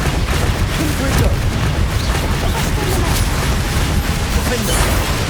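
A Confringo fire spell explodes in the Hogwarts Legacy video game, one of a dense, loud barrage of rumbling booms and crackling blasts that runs without a break.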